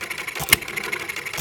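A 1/3 scale Breisch Hired Man hit and miss engine runs fast and steadily, a near, moderately loud mechanical chugging with one sharp louder pop partway through.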